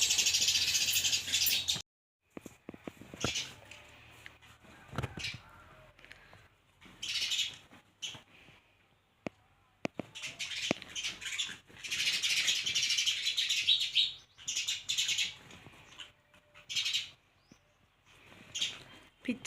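House sparrows around a village home chirp in rapid, busy bursts, close and fairly loud, separated by brief quiet gaps, with some faint background noise.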